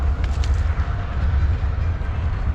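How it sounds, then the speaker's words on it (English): Train noise near the CN rail yards forms a loud, steady low rumble with rolling rail clatter and a few brief squealing bursts early on, close and continuous. "Train's really noisy here today."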